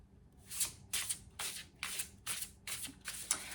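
Seven quick riffle bursts of a dual shuffle with two decks of cards, each a crisp papery flutter followed by a brief pause, close and fairly quiet with no talking.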